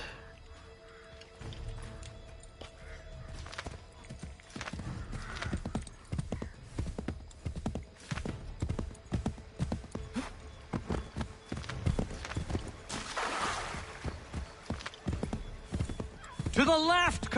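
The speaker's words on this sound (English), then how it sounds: "there's the horse" Horse hooves clip-clop steadily and a horse whinnies partway through in Assassin's Creed III Remastered, while people talk over the game sounds.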